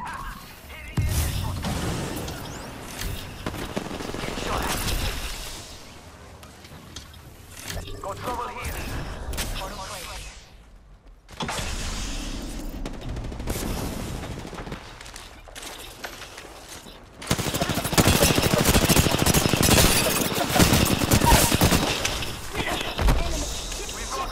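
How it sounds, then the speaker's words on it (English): Gunfire and explosions during an Apex Legends battle royale match on Storm Point, dense bursts and booms throughout, growing heavier and louder near the end, with a player talking over the shooting. "Enough, I'm getting shot at."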